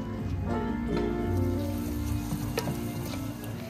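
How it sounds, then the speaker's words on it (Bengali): Onion, ginger and garlic fry in a pan in a small kitchen, making a steady, close sizzle with faint scrapes and clinks over a low background hum. "আর এখানে পেঁয়াজটা ভেজে নিচ্ছি, পেঁয়াজ আদা রসুন আর গ্রেভিটা মশলাগুলো এমনি নর্মাল হালকা ভেজে"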